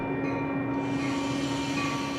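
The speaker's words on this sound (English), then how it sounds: "The train is coming." A train rumbles steadily with a constant mechanical drone and whining tones, heard close and continuous with no speech.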